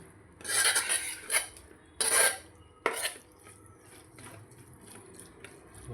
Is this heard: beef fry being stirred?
yes